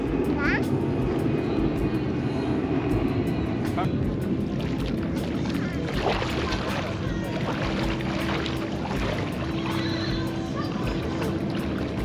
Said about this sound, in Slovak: Lietadlo.